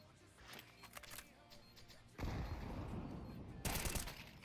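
Counter-Strike gunfire on the Nuke map, with loud bursts of rapid shots and several close sharp reports.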